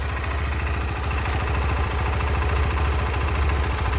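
A 2010 Yamaha YBR 125 Custom motorcycle engine idles steadily and loudly up close, a continuous low throbbing rumble with rapid even pulses and no voices.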